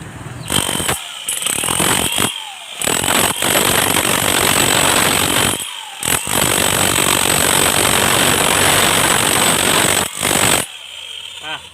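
A Makita HR3850 rotary hammer, under repair for failing to hammer-drill, pounds loudly in long continuous bursts of rapid impacts, stopping briefly several times between runs, close and harsh.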